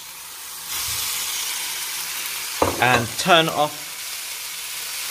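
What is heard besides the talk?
pasta sizzling in frying pan for carbonara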